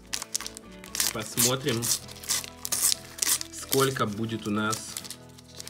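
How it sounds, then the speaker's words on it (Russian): A Panini sticker packet for a Miraculous Ladybug album being torn open and crinkled by hand, bursts of close paper and foil rustling under someone speaking. "Откроем предпоследний пакетик"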